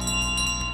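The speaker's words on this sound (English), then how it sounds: "Give me the bell." Gold bell in Untitled Goose Game ringing as it is grabbed, a bright sustained metallic tone with shimmering overtones and small pulses, loud and close, alone without talk.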